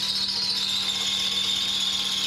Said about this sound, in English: running that drill today